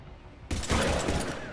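Dense bursts of rapid gunfire from the video game Mass Effect 3 erupt suddenly after a half-second of near quiet, loud and sustained with a rattling automatic rhythm.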